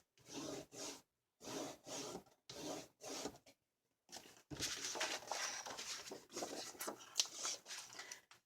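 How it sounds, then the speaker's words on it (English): Paper layers of a Christmas mini album are burnished by hand. Three short rubbing strokes are followed by a longer, continuous scraping pass, all close and crisp, with no talk. "let me burnish these"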